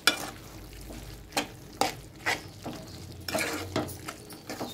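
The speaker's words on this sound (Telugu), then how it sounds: "ఇప్పుడు కారం మంచిగా మగ్గించుకోవాలి." Chili powder cooks in a pan while a spoon stirs and scrapes in repeated clinking strokes over a faint, quiet sizzle.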